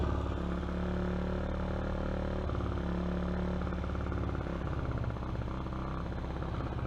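A Honda CG125 project bike runs at a steady idle, producing a continuous, even mid-pitched engine drone up close with a slight mechanical clatter and no change in speed.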